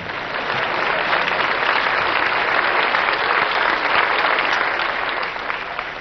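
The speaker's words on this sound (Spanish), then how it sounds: "Aplaudan, hermano." Sustained audience applause at a Bolivian stand-up comedy show, a dense, steady wash of clapping that swells in quickly and holds loud and even for about six seconds before easing slightly at the end.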